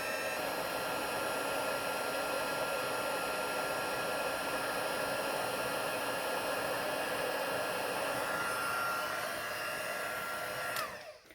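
A heat tool blows steadily for about eleven seconds while melting embossing powder on a handmade card, making a loud, even whooshing roar with no talk, until it shuts off abruptly near the end.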